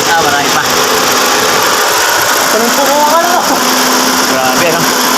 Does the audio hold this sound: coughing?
no